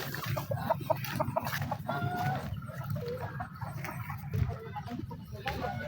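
Two farmyard geese honk and cackle repeatedly at close range, their calls overlapping with a person talking nearby.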